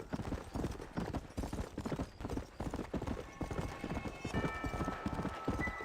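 A horse gallops in Red Dead Redemption, its hooves drumming in a fast, continuous, close clip-clop that runs from start to end, with some game sounds rising near the end.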